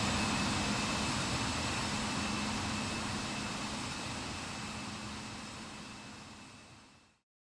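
Passenger jet airplane at Manchester airport, a loud broadband engine roar that fills the scene and slowly fades as the aircraft passes, with no talk.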